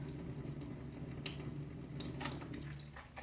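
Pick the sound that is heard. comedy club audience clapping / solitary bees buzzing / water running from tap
water running from tap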